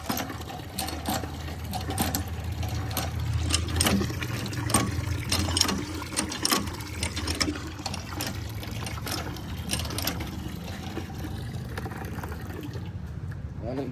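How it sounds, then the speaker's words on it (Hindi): A bucket filling with water from a tap on a rooftop, a steady rushing trickle and splash running continuously at moderate distance, with a faint mechanical hum underneath. "बाल्टी भर के रखते हैं पहले।"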